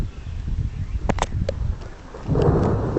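Thunder rumbles low during a thunderstorm with rain falling, a few sharp crackles midway and a swelling rumble toward the end, with no speech.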